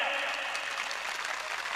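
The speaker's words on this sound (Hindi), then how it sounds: "मेरी बात से सहमत है तो ताली बजाएं आप" A live audience at a public talk in Bikaner breaks into sustained clapping, a dense, steady wash of many hands filling the whole stretch at an even, fairly loud level with no voices on top.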